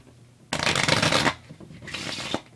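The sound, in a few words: shuffling a deck of cards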